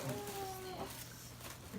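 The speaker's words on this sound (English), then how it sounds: "Kitty cat. Kitty cat." Faint, brief meow from a cat, a short tonal cry near the start, heard quietly in a soft room.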